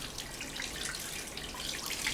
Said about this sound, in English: Turn on the water and wet your hands.